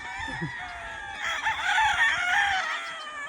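Chickens cluck and a rooster crows over a steady farmyard din, the crow swelling loud near the middle before trailing off.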